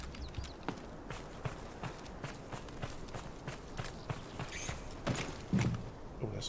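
Footsteps in the video game Delta Force, a run of quick, fairly faint steps at a steady pace over ambient game noise, with a heavier cluster of thuds near the end.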